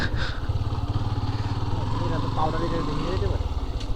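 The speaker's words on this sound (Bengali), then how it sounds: "একটা বাইক আসলে এই ব্রিজটাতে সাউন্ড হয়।" A motorcycle crossing a rattling bridge on a rough village road in Mirzapur, its engine running steadily and close by, while someone talks over it throughout.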